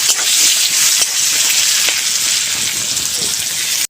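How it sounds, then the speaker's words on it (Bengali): Jackfruit seeds frying with salt in a pan, a loud continuous close sizzle with light stirring scrapes, no talk. "নুন, ভালো করে কাঁঠাল দানাগুলো আমি ভেজে নেব।"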